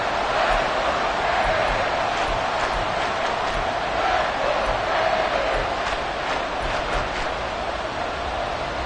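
Football stadium crowd roaring steadily at a loud, sustained level through a third-and-long play in a game against the Raiders, with rhythmic swells rising above the continuous din.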